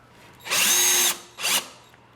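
A power drill driving a 2.5 inch decking screw while mounting a shelf on a French cleat, heard as one loud, close whir of about half a second followed by a shorter second burst.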